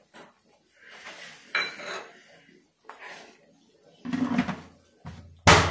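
Gram flour (besan) stirred round and round in a pan as it roasts toward a reddish colour: intermittent scraping and rubbing strokes of a utensil, growing louder near the end with a sharp pan clatter.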